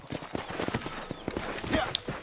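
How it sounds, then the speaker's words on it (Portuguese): A horse's hooves clip-clop in an irregular trotting rhythm in the western video game Red Dead Redemption, close and fairly loud, with a brief bright chime near the end. "Vamos chamar o meu cavalo."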